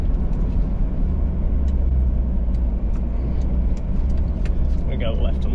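A 4x4 climbs a forest hill in second gear, low range, in Amamoor State Forest, Queensland, producing a steady, close, low engine rumble with rough texture throughout.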